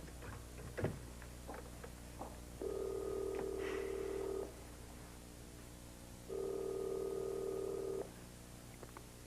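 Telephone line tones during dialing, two sustained steady beeps of about two seconds each separated by a pause, over a faint hum with a few soft clicks at the start.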